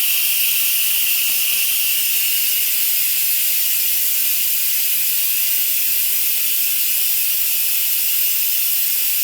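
Steady broadband hiss of an Instant Pot pressure cooker on quick release, steam venting from the valve continuously and evenly at close range with no voices over it.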